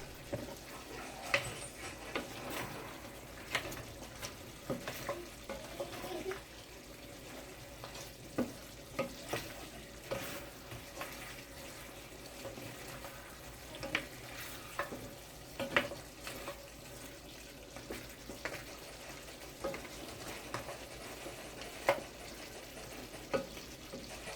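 Sweet and sour pork, Guyanese style, being stirred in a frying pan, with steady sizzling and repeated utensil scrapes and taps against the pan at an irregular rhythm, close up and moderately loud.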